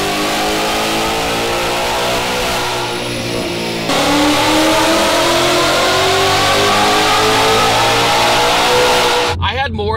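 A modified 750 horsepower Mustang GT engine revs loudly and close, a steady roaring drone that climbs in pitch and then cuts off sharply near the end.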